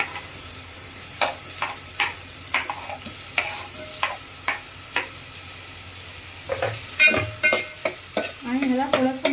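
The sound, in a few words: chopped onions sizzling and frying in hot oil in a pot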